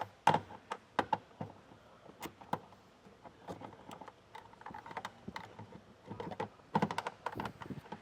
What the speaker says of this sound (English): I'm going to take a 10mm socket and a stubby ratchet, and I'm going to remove each one of those nuts.